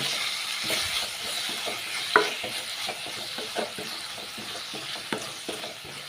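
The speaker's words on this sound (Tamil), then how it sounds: "முருங்கைக்கீரை பாருங்கங்க லைட்டாக வந்து வதங்கிடுச்சுங்க" Drumstick leaves sauté in a pan with a continuous close sizzle, and a spatula stirs and taps against the pan in an irregular rhythm throughout.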